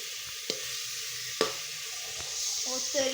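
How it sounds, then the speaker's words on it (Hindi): Chicken pieces frying in a pan for a pasta dish produce a continuous close sizzle, broken by a couple of sharp clinks from stirring and a faint voice near the end. "देखें हमारा चिकन अच्छे से फ्राई हो रहा है"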